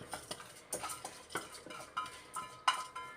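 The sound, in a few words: stirring drained soaked rice into boiling water for prawn biryani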